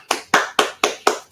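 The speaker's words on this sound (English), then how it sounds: "hand clap because he put on a great event" Five sharp hand claps in a steady rhythm, each crisp and close, with a short ringing decay and no voices.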